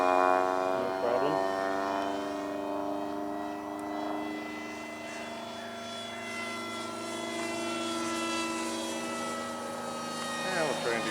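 Large R/C Interceptor propjet model airplane making passes down a runway, its steady turbine whine holding near-constant pitch with slight Doppler swells as it passes, continuous and fairly loud throughout.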